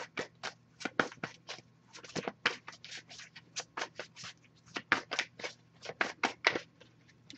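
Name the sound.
shuffling cards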